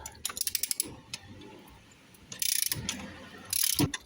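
A ratchet undoes a spark plug on the N52 engine of a BMW E60 530i, with quick bursts of sharp metallic clicks separated by a short quiet pause, heard up close.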